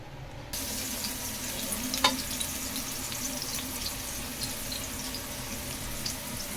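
Shrimp, squid and bagoong with garlic, onion and ginger cook in a pan, giving a continuous, even sizzle with a soft knock or stir partway through and no voices.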